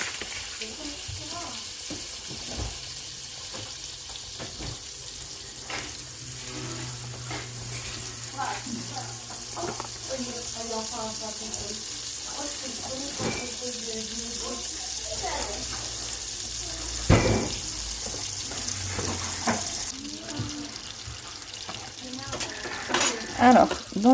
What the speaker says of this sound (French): il faut que je mette du beurre dans ma poêle pour faire revenir les crevettes